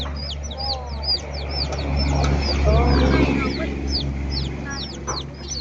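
Chickens cluck and call repeatedly at close range, a busy flock with sharp chirpy notes over a steady low hum and some talking.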